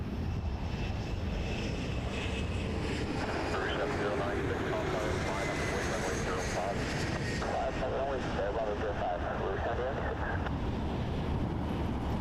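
Jet engine roar from a Jazz CRJ900 regional jet arriving from Columbus at Toronto Pearson airport, a steady, broad outdoor rumble with wind buffeting that holds for about twelve seconds and runs under a commentator's voice.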